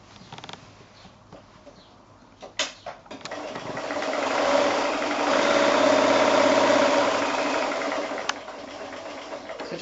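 Sewing machine stitching a fabric seam on a quilted pocket bag made from fat quarters, a few stuttering starts followed by a steady, loud mechanical whirr that runs for several seconds.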